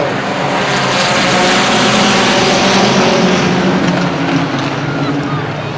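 Race cars roar around Star Speedway in New Hampshire, a loud, continuous, dense engine drone with shifting pitch, as one car with number 27 begins smoking in the closing laps.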